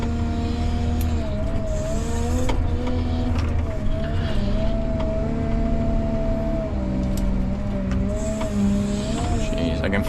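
A Caterpillar 930K wheel loader engine drones steadily throughout, close and loud, with a continuous low hum and shifting tones as the machine works and its wheels slip, and a voice talking over it.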